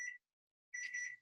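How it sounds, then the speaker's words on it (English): A kitchen timer going off with two short electronic beeps, a brief one then a longer one after a pause, clear and close in an otherwise quiet room. "The timer's going off."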